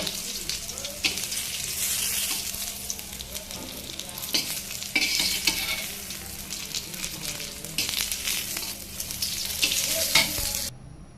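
Pointed gourd (potol) slices frying in a pan, a steady close sizzle broken by repeated scraping stirs, continuous and fairly loud with no talking.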